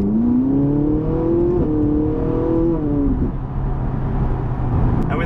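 A 2011 Ferrari 458 Italia's engine and exhaust at low speed with exhaust valves open, a loud, close, steady drone whose pitch climbs and then drops near the end, with no talk.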